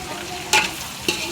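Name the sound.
stirring ivy gourd (dondakaya) curry frying in a pan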